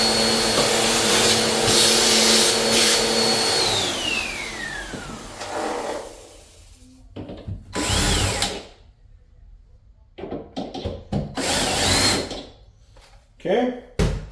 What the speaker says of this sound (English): it would be great to vacuum out the sawdust